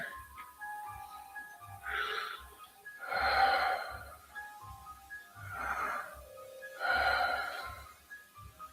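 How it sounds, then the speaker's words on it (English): Slow, measured breathing in a dark, eerie setting, four distinct breaths spaced a couple of seconds apart, close and fairly faint over near silence. "You hear breathing."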